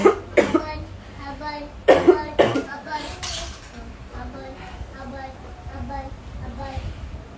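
A woman with Covid-19, wearing a mask, coughs several times in sharp bursts near the start and again around two seconds in, close and fairly loud, then quieter talk and background voices continue.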